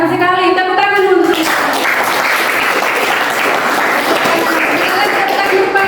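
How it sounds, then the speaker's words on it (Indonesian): A classroom full of people breaks into dense, sustained clapping during a lesson on the human excretory system, loud and close, following a brief spoken phrase at the start. "Tepuk tangan dulu."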